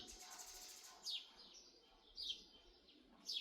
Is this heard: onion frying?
no